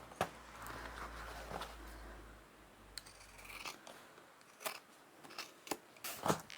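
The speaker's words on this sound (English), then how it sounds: "I'll just trim the edges to make it look a bit neater." Scissors snip along the edges of upholstery fabric for a boxed bag, a series of sharp, separate cuts spaced unevenly, close and fairly quiet, with no talk.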